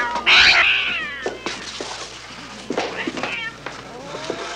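Cats meowing and caterwauling in a 1969 horror film, a loud drawn-out yowl at the start followed by scattered shorter meows and cries, close and fairly clear against quiet background.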